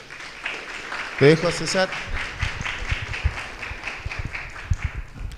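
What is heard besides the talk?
audience applause for the speaker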